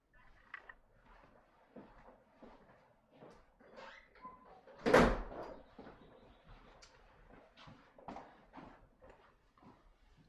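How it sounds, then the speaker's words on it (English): A door closes with a single sharp thud in an otherwise quiet home room, surrounded by faint scattered knocks and shuffling. "I need to close the door."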